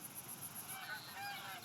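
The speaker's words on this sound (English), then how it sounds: "We'll sit here and call and wait on some geese to come in." Canada geese in the hunting game theHunter: Call of the Wild honk and call from a flock, a series of short nasal honks rising above faint background ambience.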